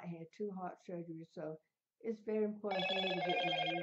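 A mobile phone rings close by with a loud, sustained, buzzy ringtone that cuts in after someone talking and keeps going to the end.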